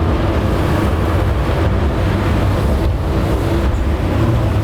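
SeaHunter Tournament 45 boat, rated at 1400 HP, roars steadily as it cuts a tight turn at about 3,500 RPM. Loud engine drone mixes with wind and rushing water throughout.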